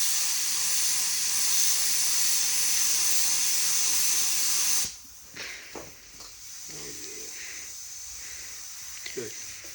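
Spray paint hissing in a steady, close stream as a light coat goes onto a car dent repair for about five seconds, then stopping abruptly, followed by quieter handling noises.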